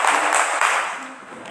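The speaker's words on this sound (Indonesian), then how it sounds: "Tepuk tangan." Students applauding in a primary school classroom, a short burst of dense clapping from many hands that fades within a second or two.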